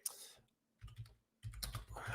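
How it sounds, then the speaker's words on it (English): Rapid bursts of typing on a computer keyboard, clattering keystrokes in quick clusters separated by short pauses, close and fairly loud with no talking. "As I try to do my hacker typing so I can seem like I know what I'm up to."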